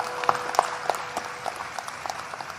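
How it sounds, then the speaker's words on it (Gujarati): An audience at a Gujarati folk dayro gathering claps in scattered, uneven bursts, moderately near and fading, with a voice faintly present underneath. "એમને એક વખત જોરદાર તાળીઓના નાદ સાથે વધાવો."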